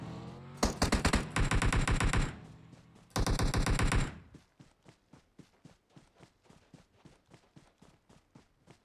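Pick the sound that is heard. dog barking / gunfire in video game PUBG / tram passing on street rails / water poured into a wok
gunfire in video game PUBG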